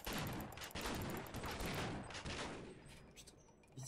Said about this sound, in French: C'est qui tire de loin, cet enfoiré?